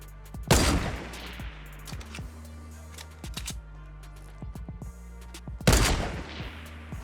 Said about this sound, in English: Oh, he got sniped by somebody else.